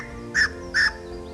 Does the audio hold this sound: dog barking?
no